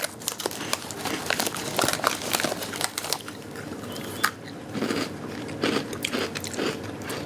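Crisp bites into crunchy speculaas spice cookies, a series of sharp close crunches with crinkly chewing in between, loud and near with no talking.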